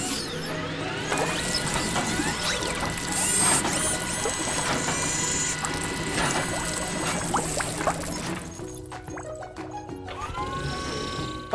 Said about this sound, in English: time to scrub away those dirty marks. Ready for the brushes